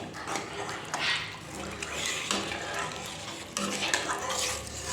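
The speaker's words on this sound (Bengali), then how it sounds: "তো দেখো ঝোলটা এরকম মিক্স করে নিচ্ছি।" Egg curry gravy stirred in a pan after water is added to the fried masala, soft liquid swishing with scraping strokes and occasional clinks of a utensil against the pan, close and quiet.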